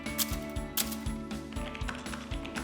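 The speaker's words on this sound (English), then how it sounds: "manual typewriters had the type on bars, which responded to the stroke of a key and punched into an ink ribbon" Keys of a manual typewriter with typebars striking an ink ribbon, a steady run of sharp mechanical clacks at a quick, even pace over a low hum of music, close and fairly loud, with no voices.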